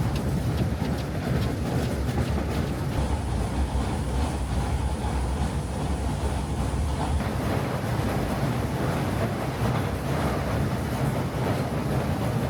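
The Takachiho Amaterasu Railway's open-deck rail car, with no windows or roof and running on biodiesel, rolls along the line to the Takachiho bridge, giving a constant loud roar of wind and track noise.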